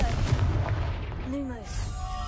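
A Confringo spell explodes in Hogwarts Legacy, giving a heavy, rumbling burst with crackling debris. Swooping tonal magic effects trail off as the blast fades.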